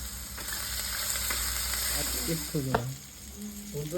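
Chopped onions hit hot oil with dry red chillies and whole cumin for green pea ghugni, giving a steady bright sizzle close by that settles slightly near the end as faint tonal sounds come through.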